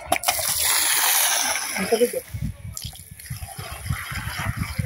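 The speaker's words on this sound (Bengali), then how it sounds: "পানিগুলো ডাইলা দিব, মিশাই দিব।" Water poured from a clay pitcher onto a courtyard being paved, a steady gushing splash for about two seconds that then breaks into lower, uneven splatters and drips.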